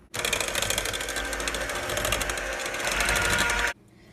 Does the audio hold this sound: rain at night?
no